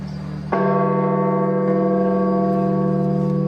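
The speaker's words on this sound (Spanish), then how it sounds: "En las calles de Roma, las campanas repican." Church bell in Rome struck once with a sudden loud clang, its rich ringing tones sustaining strongly and evenly for several seconds, close and alone.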